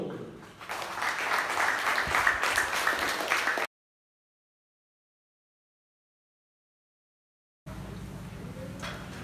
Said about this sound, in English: let's give our hand of applause with the students who will do their